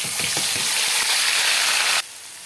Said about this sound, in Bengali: পুরো মশলাটাই আমি এই তেলের মধ্যে দিয়ে দিয়ে ভেজে নেব